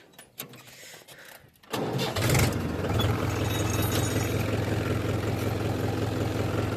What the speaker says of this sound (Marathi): चलो अभी करते हैं अपन लोग स्टार्ट ट्रैक्टर.